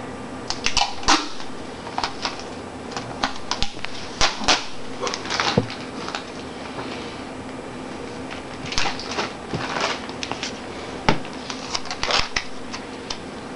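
Ordinary adhesive tape ripped from its roll in short, sharp bursts of tearing and crackling, repeated irregularly at close range over a faint background hum.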